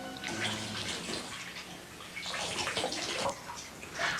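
Hot water runs from a tap into a bathtub, a steady splashing gush with bubbling and sloshing that continues throughout at close range.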